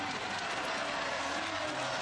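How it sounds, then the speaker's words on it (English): Crowd noise and applause at a 1976 Jeux Sans Frontieres game in Groningen, Netherlands, as a Dutch girl rides a chariot: a dense, steady roar of cheering and clapping that fills the whole moment. "There's a lot of noise from the crowd."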